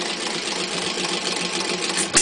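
Tochtrop Economy engine fitted with a governor throttle, running steadily with a rapid, even mechanical clatter at close range and a brief knock near the end, no talking.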